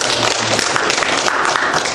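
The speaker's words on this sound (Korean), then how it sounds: "우리 하나님께 감사의 박수 올려드리겠습니다" A church congregation claps together during a Sunday morning worship service, a loud, dense and continuous burst of many hands that fills the room for the whole stretch.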